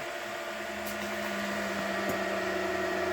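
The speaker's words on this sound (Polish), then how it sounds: "Głośno chodzi zawrócony ten wentylator." A loud cooling fan in an old 2003 rack-mount computer spins up, giving a steady whirring drone with a constant tonal hum, close and continuous with no voices.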